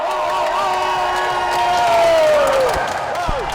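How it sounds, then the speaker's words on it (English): A crowd at a real tennis world championship final cheers wildly, with loud sustained roaring, high whoops and whistles rising and falling, swelling toward the middle of the clip. "Crowd going wild."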